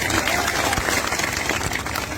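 Dense, steady clapping from a rally crowd fills the air, a continuous wash of many hands applauding at moderate loudness with no clear pauses.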